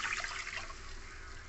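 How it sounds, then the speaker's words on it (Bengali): Whisked curd thinned with water being poured into a pan with tempered spices, making a close, soft watery gush that starts strongest and settles into a quieter trickle. "ফোড়ন থেকে ভালো করে গন্ধ বেরোলে এই যে ফেটিয়ে রাখা জল মেশানো দইটা দিয়ে দেবো।"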